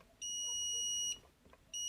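A multimeter set to its continuity buzzer range gives two steady, high-pitched beeps, one long and one starting at the end, while the legs of a transistor in a circuit are tested.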